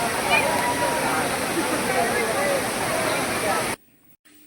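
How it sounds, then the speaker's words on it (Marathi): Savatkada waterfall near Kolhapur, water plunging from a height in a loud, steady broadband roar heard up close, cutting off abruptly near the end into near silence. "इथे काही धबधबे एकदम उंचावरून कोसळतात"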